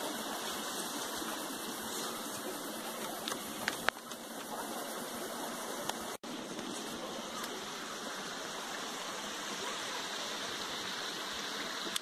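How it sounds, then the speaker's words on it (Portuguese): A small mountain stream flows with a continuous broadband rushing and babbling. The sound is steady and fairly close, with a couple of faint knocks partway through and no clear talk. "Olha só, vamos seguir o curso do rio aí, pessoal. Esse riacho, vamos ver até onde que vai."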